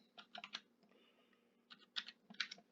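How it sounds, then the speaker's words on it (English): Fingers tap on a computer keyboard in two quick bursts of clicky keystrokes separated by a short pause, close and quiet with no talking. "we're just going to type in Twinkle"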